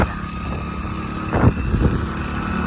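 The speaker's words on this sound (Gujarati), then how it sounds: "આગળ ટ્રેક્ટર ને જયદીપનું બાઈક જાય છે." A tractor and a motorbike drive ahead on a rural road, a steady engine drone with a louder rumbling swell midway, buffeted by wind noise.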